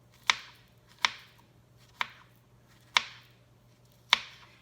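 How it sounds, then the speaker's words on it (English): A knife chops a banana into small pieces on a cutting board with five crisp, evenly spaced taps about a second apart, close and clear over a faint steady hum, with no talking. "I'm going to cut small pieces"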